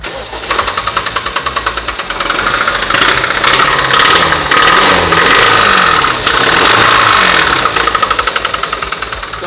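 A loud MGB engine running close by with a rapid, hard metallic knock repeating steadily, the revs rising and falling briefly midway.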